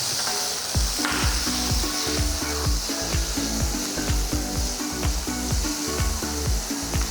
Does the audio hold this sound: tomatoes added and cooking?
yes